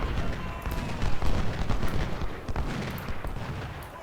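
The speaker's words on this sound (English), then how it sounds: "There is the artillery again." Artillery and massed gunfire from a Civil War battle in Ultimate General: Civil War, a dense continuous rumble of booms and crackling shots with no clear gaps, moderately loud and steady throughout.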